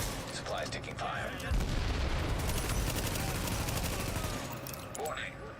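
Gunfire in The Division video game, a dense continuous barrage of rapid shots and booms throughout, with brief voice fragments over it.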